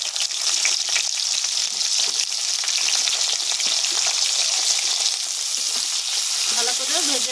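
Chopped onion frying in hot oil with garam masala and bay leaf, a dense, constant sizzle close up and fairly loud, with a few faint stirring scrapes near the end and no voices.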